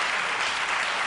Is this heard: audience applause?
yes